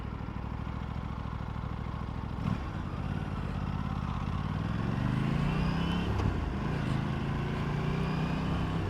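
Engine of an Aprilia RS 457 motorcycle while riding in sport mode, a steady close mid-pitched drone that rises in revs after a brief dip, with wind rush and some clatter, no talking.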